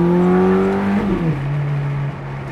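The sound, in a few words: car driving and accelerating on a road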